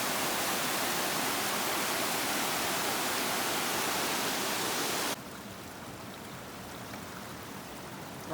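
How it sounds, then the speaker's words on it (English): A water slide waterfall on a Rockies day hike rushes steadily over rock, a close, even wash of flowing water that suddenly becomes quieter and more distant partway through, with no talking. "I like water slide falls."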